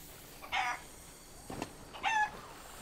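A chicken in the Sea of Thieves pirate game gives a few short clucks on an island, three brief moderately loud bursts separated by quiet gaps over low ambient noise.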